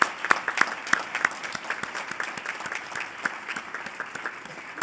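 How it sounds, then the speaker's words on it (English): Audience applause at a spring awards ceremony, a steady wash of many hands clapping with sharper individual claps standing out, sustained throughout with no talk over it. "Let's give everybody a big round of applause."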